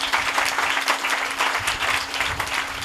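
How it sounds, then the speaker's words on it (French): A church congregation applauds at a French-language worship service, steady, dense clapping filling the room throughout with a faint low hum underneath. "Donnez-moi l'acclamation Seigneur."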